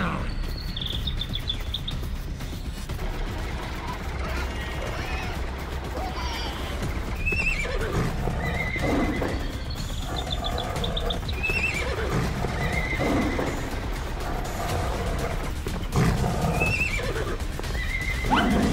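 Game sounds from a farm-animal parkour video game: a horse whinnies several times over steady hoof clip-clop and a chirping insect and bird ambience, with a faint voice now and then.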